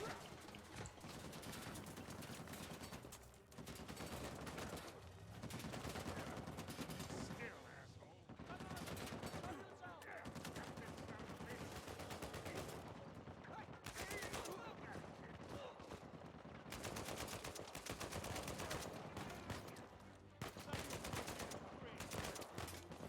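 Rapid, sustained gunfire in the video game Uncharted 4 rattles through a busy battle soundscape, with bursts and brief lulls repeating throughout.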